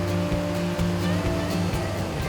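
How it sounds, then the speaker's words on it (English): Water of the Snowy River in Victoria's High Country flows steadily nearby, a continuous broadband rush with a faint low hum underneath. "beautiful snowy river."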